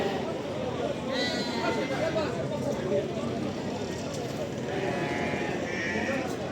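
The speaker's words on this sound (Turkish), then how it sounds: "Bu kuzular kimindir böyle?" Sheep and lambs bleat repeatedly amid a busy flock, with people chattering in the background throughout.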